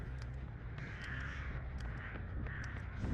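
In the horror game Dead by Daylight, a crow caws repeatedly in short harsh calls over low game ambience, fairly close and clear, with no talking.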